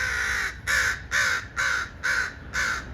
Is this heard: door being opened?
no